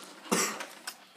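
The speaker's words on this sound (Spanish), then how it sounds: "Deja tu tos" One harsh, close cough bursts out, followed by a couple of smaller coughing sounds in quick succession.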